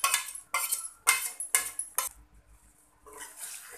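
Paneer pieces being gently mixed into masala in a pan for paneer matar masala, heard as a few light metallic clinks and scrapes of a spoon against the pan in short bursts, then a brief pause and one more stir.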